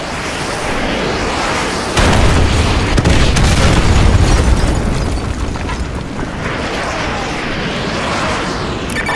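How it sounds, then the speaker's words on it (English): Artillery strike in Call of Duty Modern Warfare 2 Remastered: loud booming explosions burst in, a heavy blast around two seconds followed by rumbling impacts that roll on and fade into continuing battle noise. "Call an artillery on those vehicles. Fire mission received. Artillery inbound."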